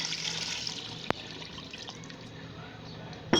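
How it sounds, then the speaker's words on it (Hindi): Water from a jug pours into a pot of cooking beef nihari, a steady close splashing hiss lasting a few seconds, with a small clank at the end. "तकरीबन 1 जग पानी जो है वो डालना है।"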